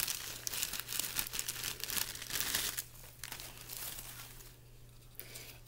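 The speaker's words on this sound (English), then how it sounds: "you're gonna take your crepe paper" Crepe paper crinkling and rustling as it is handled for a wind sock craft, a dense run of crackly bursts for several seconds, then quieter, sparser crinkles near the end.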